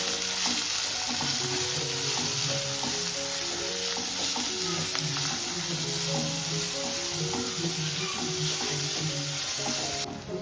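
Onion, garlic and chili stirred together and fried in hot oil: a steady close sizzle with scraping runs through the whole stretch, mixed under continuous background music.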